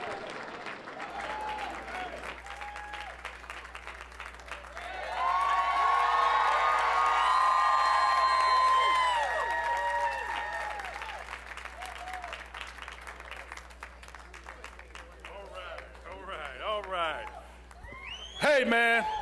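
At a 2018 election night event in Indiana, a crowd applauds and cheers, swelling to a loud roar with whoops, then easing off under voices talking.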